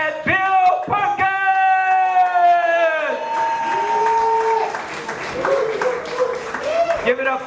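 A crowd at a political rally for a city council candidate, Bill Perkins, cheers and yells with scattered clapping while a loud, drawn-out announcer's voice rings over the noise.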